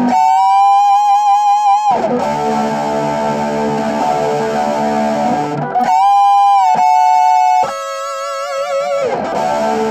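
An electric guitar played through a rig sounds sustained, distorted lead notes layered with harmonies. The notes are held and bent with vibrato, loud and without any talk.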